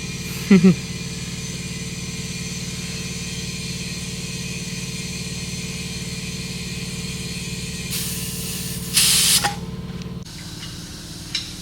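Air from a compressor inflates a car tire after a flat has been plugged, a steady low droning hum broken by short, loud bursts of hissing air near the end, close by.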